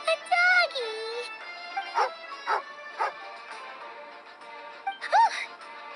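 A dog character growls and barks angrily in a video game, a few short harmonic yips and barks spread over several seconds, close and fairly loud, with some whimpering tones.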